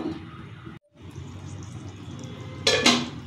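A spoon clatters against a pan as spices are mixed into green banana pieces, with a faint frying hiss underneath, a short gap, then two sharp scraping clinks near the end.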